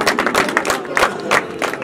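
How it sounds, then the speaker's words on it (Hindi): Crowd applause at a welcome ceremony for a 19-year-old dragon boat gold and silver medalist, dense uneven clapping close by with a few voices mixed in. "जोरदार ताली"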